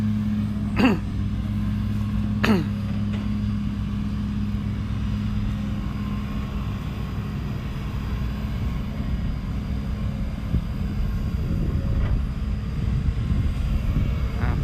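A Sumitomo SH210-F5 excavator with 8,700 hours scoops sand and soil into a six-wheel dump truck: a steady, loud diesel engine drone with a low, even hum and two brief higher whines near the start. No voices.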